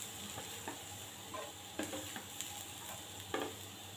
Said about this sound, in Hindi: तमाम सब्जियां हमारी अच्छे से फ्राई हो गई हैं।